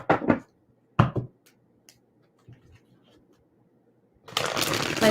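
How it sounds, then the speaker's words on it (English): Tarot cards riffle and slap in a few quick bursts, with quiet handling in between, then a longer, louder shuffling rustle at the end. "Let me get a good shuffle for Leo"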